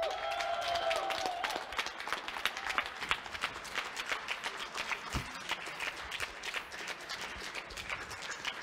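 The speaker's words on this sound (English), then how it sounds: "One more round of applause." Audience applause at the Bochum Regional Championships 2023 final, a steady wash of clapping from a crowd with a few voices and a brief whistle-like tone early on, fairly distant and even throughout.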